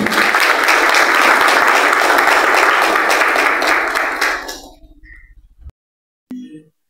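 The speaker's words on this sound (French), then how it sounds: "Sous vos applaudissements, s'il vous plaît." Audience applause at a political event in Haiti, dense sustained clapping from a crowd that fades out after about five seconds, followed by a brief clink and a short sound near the end.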